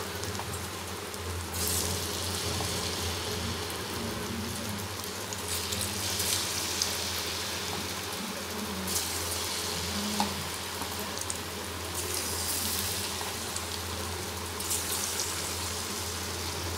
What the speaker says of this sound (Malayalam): ഇതേപോലെ നമുക്ക് ബാക്കി തന്നെ ഇരിക്കുന്നതും കൂടെ വറുത്ത് പോരാം